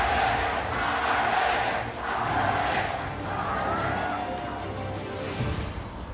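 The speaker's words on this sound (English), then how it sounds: "they finally returned, and the crowd welcomes them" A large esports crowd roars and cheers continuously as team TWE is welcomed into a League of Legends group-stage arena, the dense, loud noise swelling steadily with no break.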